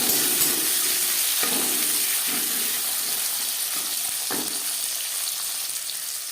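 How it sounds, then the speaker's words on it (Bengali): Whole cumin seeds frying in hot oil, then carrot slices added to the pan: a steady, close sizzle throughout, with a few soft stirring scrapes and a brief surge of frying as the carrots go in. "15-20 সেকেন্ড জিরে ভেজে নেওয়ার পর দিয়ে দেবো গাজর"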